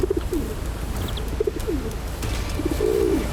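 Soft, repeated cooing of a pigeon-like bird, low and throaty, in short pairs and a longer trill over faint background noise.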